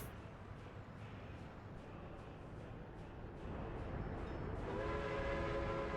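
A train rumbles along steadily in the video game Workers and Resources, a continuous low roar that grows slightly louder midway, with a sustained horn-like tone joining near the end and no talking.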